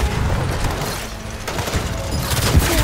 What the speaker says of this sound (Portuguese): Lançando granada de fragmentação!